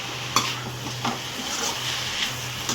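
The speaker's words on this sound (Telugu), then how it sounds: "ఇలా మొత్తం మంచిగా కలిపేసుకోవాలి" Gongura leaf chutney is stirred in a pan over a soft sizzle, with about four evenly spaced scraping clicks of the spoon against the metal over a low steady hum.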